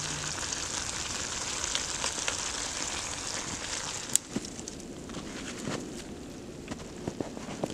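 A steak sizzles in a pan on an EcoZoom Versa wood-burning stove in winter, giving a steady broadband hiss with scattered pops and crackles from the fire beneath, close and continuous.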